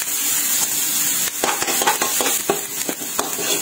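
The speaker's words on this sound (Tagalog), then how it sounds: "dito na rin tayo magigisa ng sibuyas at bawang" Onion and garlic sauté in a pan for binagoongang pechay, a steady close sizzle broken by light scraping stirs and no talking.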